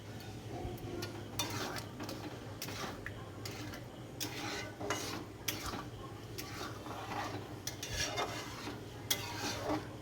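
Paneer curry being stirred continuously in a pot with a spoon, rhythmic scraping and rubbing strokes repeating steadily over a low background hum.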